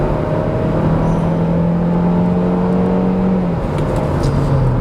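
A Chevrolet Equinox pulls away from a standing start with a loud, steady engine drone whose pitch climbs, then drops with a shift before rising again, with no talking.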